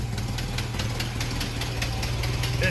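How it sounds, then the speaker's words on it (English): An old Jeep's engine idles steadily with a low, rough, smoky drone and faint knocking, left running until it empties its fuel, with no talking. "I'm just gonna let this thing run itself out of fuel here."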